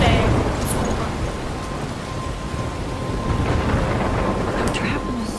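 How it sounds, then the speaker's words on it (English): Heavy thunderstorm in the video game Life is Strange, with dense, steady rain and low rumbling thunder filling the whole stretch, loud and continuous, with no clear voices over it. "I'm trapped in a storm?"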